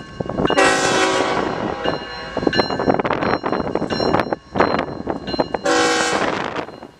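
A mixed freight train working a small yard with engines rolling through, its horn blaring in long loud blasts at the start and again near the end, with rumbling wheels and car noise between, fairly close.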